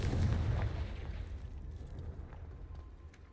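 A Confringo fire spell bursts in Hogwarts Legacy, a loud booming explosion with a deep low rumble that hits at once and then slowly decays into a lingering roar over a few seconds.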